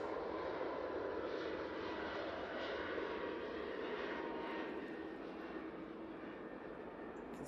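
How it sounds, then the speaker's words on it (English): A Ryanair Boeing 737 MAX 8 jet rolls for takeoff at Manchester Airport, heard as a steady, distant broadband engine roar that holds constant throughout without fading. "Ryanair 737 MAX 8 now on the roll."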